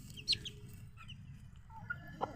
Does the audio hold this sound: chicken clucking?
yes